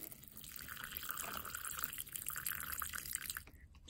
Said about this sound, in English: Let's just give it some water and leave it there.